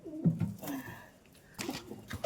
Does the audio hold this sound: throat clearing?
no